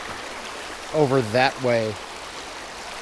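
Swollen Verde River spilling over its banks, a steady broad rushing flow heard close and constant, with someone briefly talking over it midway.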